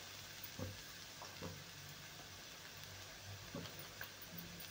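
Homemade spice masala roasts in oil for dhaba-style egg curry, a steady soft sizzle broken by occasional stirring knocks and scrapes against the pan.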